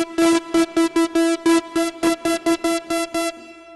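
A 1970s Korg MiniKorg 700S analog monophonic synthesizer plays a steady string of about a dozen short, evenly spaced buzzy notes at one pitch while the mix between its two oscillators shifts, close and fairly loud with no voices.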